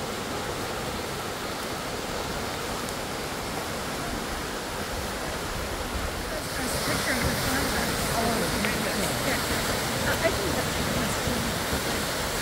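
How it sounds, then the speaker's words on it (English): Latourell Falls in Oregon, a steady broadband roar of falling water that grows louder partway through as the view gets closer. "We are at a place called Latourell Falls, and there are waterfalls here."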